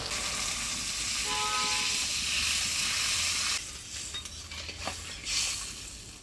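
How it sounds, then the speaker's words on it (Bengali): Fish curry with mustard and poppy seed paste sizzles and hisses in a pan while being stirred, a loud dense frying wash that drops away halfway, leaving softer scraping and spatter. "সরষা পোস্ত দিয়ে নাড়াচাড়া করে নিলাম"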